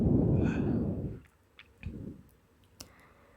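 Cards are shifted across a table with a few soft, close clicks and taps after a brief burst of louder rustling noise at the start.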